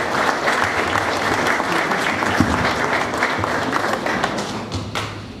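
Loud, sustained applause from an audience at a formal ceremony in Guatemala marking the handover of a restored statue of the recumbent Christ, dense and continuous for several seconds.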